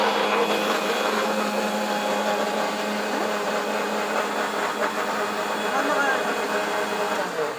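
A kitchen grinder blends a cooking paste at home, a steady loud motorized whir that runs without a break under faint background activity.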